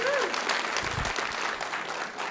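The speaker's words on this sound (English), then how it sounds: "applaud yourself." Audience applause at a California congressional candidate debate fills the room, steady and dense throughout, with a voice briefly audible at the start.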